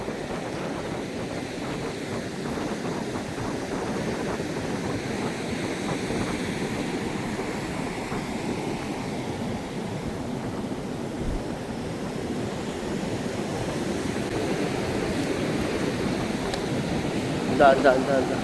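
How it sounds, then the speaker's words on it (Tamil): Ocean waves and surf rolling in at Arugam Bay, Sri Lanka, a continuous broad wash of breaking water with wind noise, growing slightly louder near the end. "இதில் அலை வருது என்ன?"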